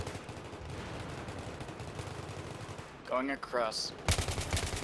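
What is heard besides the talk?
gunfire in a video game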